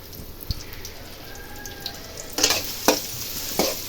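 Onions frying in oil in a pan for chicken rice, a soft continuous sizzle near the mic with several louder bursts of stirring crackle toward the end, no talking.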